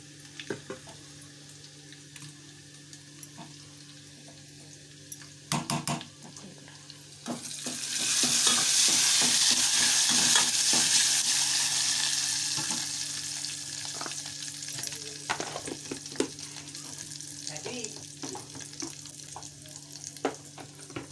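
Dal being tempered in a hot pan with curry leaves, garlic and coriander: quiet scrapes and clinks at first, then a loud, steady frying sizzle bursts in and keeps hissing while it slowly fades, with occasional stirring knocks.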